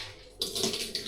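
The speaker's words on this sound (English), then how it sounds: "I'm going to pour this cold coffee into there with the ice." Cold coffee poured into a travel cup over ice, starting abruptly as a close, steady splashing pour with a slight rise in splash near the end.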